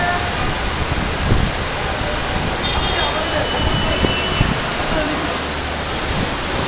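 Heavy rain pours down in Dhaka, a dense, steady roar of water that fills the whole scene without a break, with faint thumps and patters rising out of the wash.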